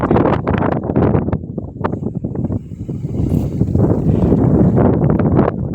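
Strong gusty wind buffets the microphone on Asherigad hill fort, roaring in loud uneven surges as tree branches shake nearby.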